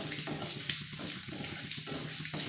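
Cumin seeds and whole spices fry in hot oil in a pan, giving a steady close sizzle with faint crackles and the occasional stirring scrape.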